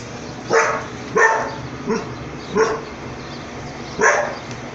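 A pit bull dog barks while a puppy pesters it, four separate loud, close barks spaced about a second apart with quiet gaps between.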